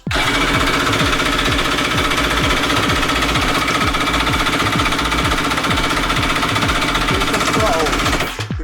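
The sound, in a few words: 750 jet ski engine first dry start attempt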